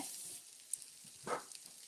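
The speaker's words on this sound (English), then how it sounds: "let me just clean my hands and we'll get these nice and sizzling" Food frying in a pan at a home cooking session gives a faint, steady sizzle with a brief louder crackle partway through, heard alone without talk.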